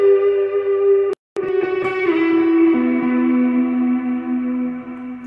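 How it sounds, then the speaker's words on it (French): Electric guitar run through two overdrive pedals, delay, compressor and reverb, ringing out sustained distorted chords that break off briefly and then bloom into long echoing, swelling tails, loud and alone. "les deux drives enclenchés, le delay, le compresseur et la reverb, ça me donne un son comme ça."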